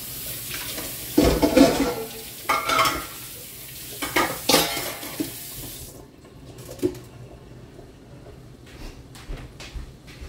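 Spices sautéing for Filipino tinola chicken soup, a close sizzle with sharp stirring bursts early on, then a quieter simmering tail with occasional faint clinks and no voices.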